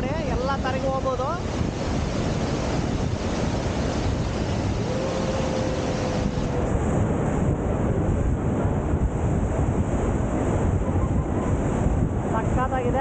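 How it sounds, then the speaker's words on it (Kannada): Roaring rush of the American Falls at Niagara beside the Cave of the Winds, a steady broadband wash of falling water and wind buffeting close to the microphone throughout, with faint voices under it. "ಅಮೇರಿಕನ್ ಫಾಲ್ಸ್ ಪಕ್ಕದಲ್ಲೇ ಇದ್ದೀವಿ. ರಭಸ ಹೆಂಗೆ ಬರ್ತಿದೆ ನೋಡಿ"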